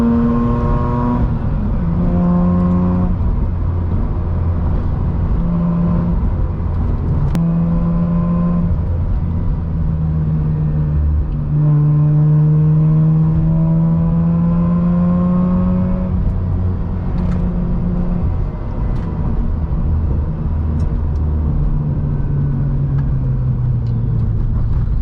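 A Mazda RX8 creeps through slow city traffic, its low engine rumble steady and close throughout, with rising and falling gear-change tones as it pulls away and slows.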